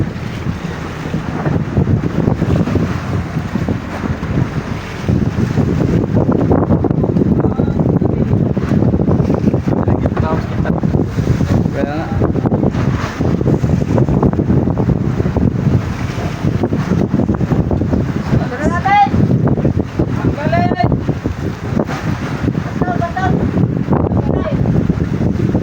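Amihan northeast monsoon wind roars across open sea aboard a boat, a loud, continuous gusty buffeting mixed with waves, with a few indistinct voices underneath.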